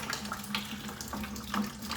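Water drains steadily from the drain plug of a 1968 Ford Mustang, making a continuous trickling, splashing flow close by with no other sounds.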